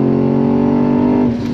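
A car engine with a faulty muffler revs loudly and roughly up close, with a raspy, droning exhaust note that drops slightly near the end.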